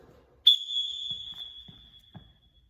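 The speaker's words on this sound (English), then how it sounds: "I want you to listen to my whistle." One sharp whistle blast holding a single steady pitch for about a second, then trailing off, with a few soft thumps and faint movement sounds after it.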